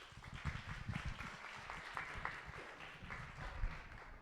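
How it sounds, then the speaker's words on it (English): Faint, distant applause from an audience at a talk about Cajun and Acadian traditional healing in Louisiana, a soft, continuous patter of many hands heard at low volume. "So if you can give him a round of applause,"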